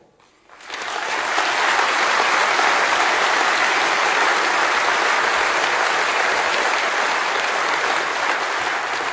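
A large political conference crowd at the Sinn Féin Ard Fheis breaks into loud applause that starts abruptly after a brief hush and continues strong and unbroken.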